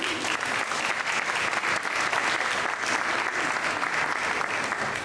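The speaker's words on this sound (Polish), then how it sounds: "Tu oczywiście brawa." A crowd applauds steadily and densely at an MMA gala weigh-in in Łódź, with the clapping holding an even, loud level throughout and no break.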